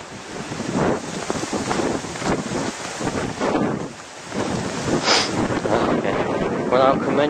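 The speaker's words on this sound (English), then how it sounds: "Man, it's so windy." Strong wind buffets the microphone in loud, continuous gusts on a snowy walk toward a farm, roaring and rumbling without a break across the whole stretch.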